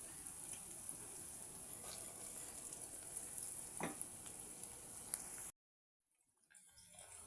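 Lentils frying in oil in a pan as they are stirred for fenugreek dal: a steady, moderate sizzle with occasional scraping clicks for about five seconds, then cutting out to near silence before faint sizzling returns.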